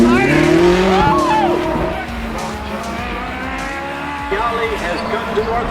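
Race cars at Daytona International Speedway during a World Championship event, engines whining and sweeping past with rising and falling pitch, loud at first, then settling into a steadier roar.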